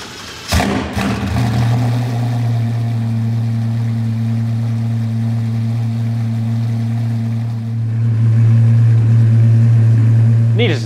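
An Apollo IE with a naturally aspirated 6.3 litre V12 sits close by, holding a loud, steady droning engine note that swells into a stronger rev near the end.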